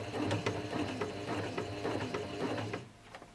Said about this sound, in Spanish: Bajamos el prensatelas y seguimos cosiendo.